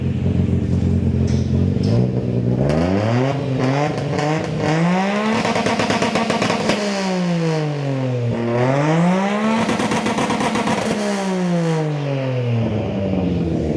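A Perodua Kancil's small engine revs hard close up, repeatedly climbing and falling in pitch through several loud, raspy bursts with a rattly, clattering exhaust tone.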